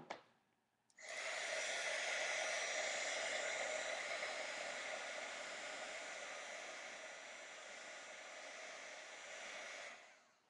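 A heat gun switches on after a moment of quiet and blows with a loud, steady hissing whoosh for about nine seconds, then cuts off.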